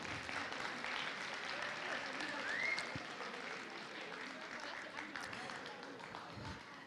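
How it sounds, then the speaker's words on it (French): Broad wash of applause from an audience at a school pleading competition final, steady and fairly loud, with a faint whistle partway through. "On l'applaudit bien fort."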